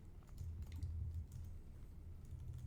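Quiet, close computer keyboard typing, a short burst of irregular soft key clicks entering a git command, with no talk.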